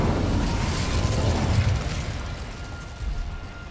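The Incendio fire spell goes off in Hogwarts Legacy on PS5 as a loud, roaring burst of flame that rumbles and thins out over a few seconds.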